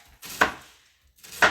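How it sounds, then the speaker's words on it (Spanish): A knife cuts through an onion on a cutting board in two crisp, close chops about a second apart, each a sharp crunch that ends in a thud on the board. "Cortamos la parte, no la parte que une la cebolla, la otra extremidad."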